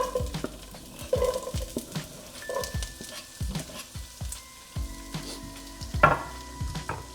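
Onion frying in a pan for chickpea curry, a steady sizzle beneath frequent knocking stirs and utensil taps against the pan, close up and unvoiced throughout.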